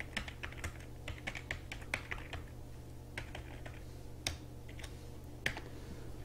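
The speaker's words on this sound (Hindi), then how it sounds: "और इधर टाइप करेंगे" Keys clatter on a computer keyboard in irregular bursts of typing, some strokes sharper and louder than others, over a steady low hum with no voices.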